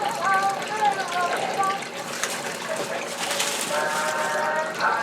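Water running through a homemade garden water feature, a steady splashing trickle that fills the whole clip, fairly loud and close, with faint tonal sounds mixed in.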